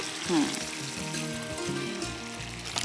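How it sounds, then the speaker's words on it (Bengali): Coconut milk poured into a hot pan of prawn malai curry sets off a steady, close sizzle with light stirring and bubbling. "আমি এখন নারকেলের দুধটা দিয়ে দিচ্ছি"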